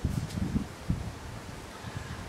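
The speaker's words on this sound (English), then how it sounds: "it's a little windy" Wind gusting outdoors during a sermon, buffeting the microphone with low rumbling bursts early on before settling into a steady soft rush, with no speech.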